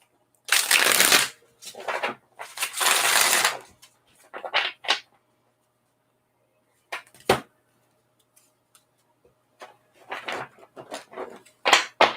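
Playing cards are riffled and shuffled in a few quick bursts, close by, separated by quiet gaps and lighter card handling.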